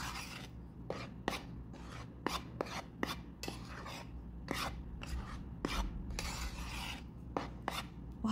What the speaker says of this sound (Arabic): هقلب الخليط ده كويس